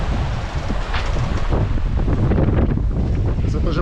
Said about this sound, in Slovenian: Imamo sunke tudi že,